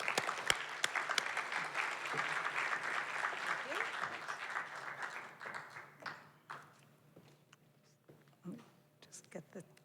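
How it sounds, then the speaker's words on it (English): An audience at a startup forum applauding a host steadily, dense clapping that thins out and fades after about five seconds, leaving a few scattered claps and faint room noise. "So please join me in giving a warm round of applause to our host, Jen Gorin."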